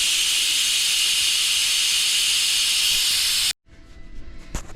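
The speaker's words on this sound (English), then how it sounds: "go back here to the pressure thing and open that up and let it release all that steam" Steam blasts out of an Instant Pot's opened pressure valve while making potato soup, a loud, steady hiss for several seconds that cuts off suddenly, leaving faint kitchen clatter and a small knock.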